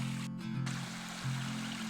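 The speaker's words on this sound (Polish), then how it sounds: "Ale piękny potok" A mountain stream flows steadily in a forest, a constant broad wash of water noise heard close, with a low droning hum running underneath and no voices.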